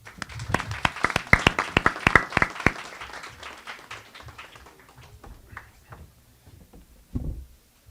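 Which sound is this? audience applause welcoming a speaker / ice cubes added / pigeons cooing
audience applause welcoming a speaker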